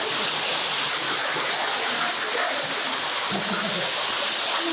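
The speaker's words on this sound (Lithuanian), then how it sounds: "O, dar vienas krioklys." Roaring waterfall in the Sucha Bela gorge of the High Tatras, a loud, constant rush of falling water close by that fills the moment, with brief speech over it.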